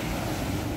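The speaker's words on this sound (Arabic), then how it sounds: "الامواج طبعا مع رياح، الامواج عاليه جدا" High winter sea waves roll and crash at Alexandria beach with strong wind, a continuous loud roar of surf and gusting wind noise buffeting the microphone.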